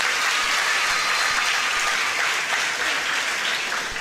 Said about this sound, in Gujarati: દેશના જવાનોને એકવાર જોરદાર તાળીથી વધાવો